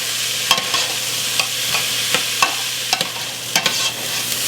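A spoon keeps scraping and tapping against a pot of hamburger and cabbage vegetable soup in a rhythmic series of soft knocks, over a quiet low simmer.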